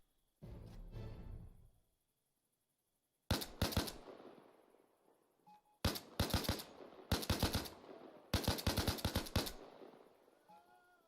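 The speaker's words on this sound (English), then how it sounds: "I think I'm shooting enemies." Rapid automatic gunfire bursts in Arma 4 against enemies at night, several loud close volleys separated by short pauses, with one earlier rumbling shot and quiet gaps between, no speech.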